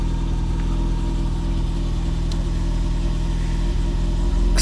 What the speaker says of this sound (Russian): Заводим. Практически с полоборота завелся.